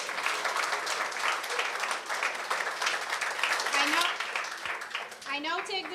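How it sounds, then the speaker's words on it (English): An audience at an Ensafe School event for the Dominica Relief Fund applauds Mr. Rampasad Siraj with sustained, dense clapping, and a voice comes in near the end. "let's have another round of applause for Mr."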